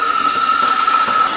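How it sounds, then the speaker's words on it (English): Cold tap water runs over salted cabbage during kimchi preparation, producing a steady, loud, close rushing stream with a faint whining tone. "I'm gonna rinse it in cold water."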